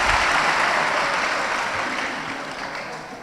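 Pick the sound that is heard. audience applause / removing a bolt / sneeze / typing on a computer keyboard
audience applause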